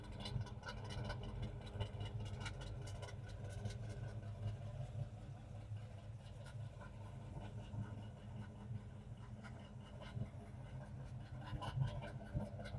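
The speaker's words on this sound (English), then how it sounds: "It's got that nice little grumble on her." Chevrolet K10 truck idling with headers and a 3-inch exhaust running all the way out, giving a steady low grumble that holds at an even level throughout.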